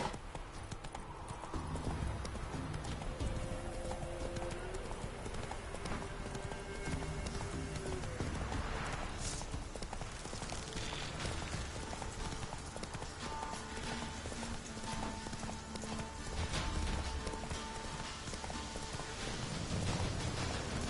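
Roach, a horse in the video game The Witcher 3, galloping through Skellige, a steady fast drumming of hooves throughout with a brief whinny partway along.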